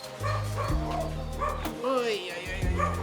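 Pomeranians at a kennel yap and bark in short high-pitched bursts with some whimpering, several dogs close by, while people talk over them.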